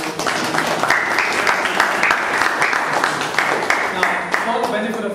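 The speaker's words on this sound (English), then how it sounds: "Give yourself a big round of applause because you're here." Members and guests at a Toastmasters meeting fill the room with loud, continuous applause that holds steady for several seconds, with voices mixed in near the end.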